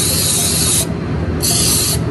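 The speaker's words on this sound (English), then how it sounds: "And I'm gonna spray pink." A pink food color spray can hisses loudly up close in two bursts with a brief pause between them.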